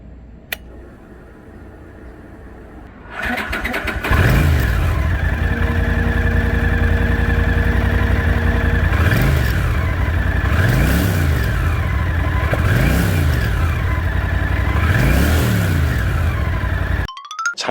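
A turbocharged 1983 Honda CX650 Turbo motorcycle engine cranks and catches, then idles loudly and close before being revved in four sharp, evenly spaced blips, with no talking.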